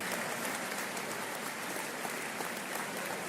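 Spectators at an 8-ball pool tournament give a steady patter of applause after a pot, a dense, even clapping heard faintly from a distance with no voices on top.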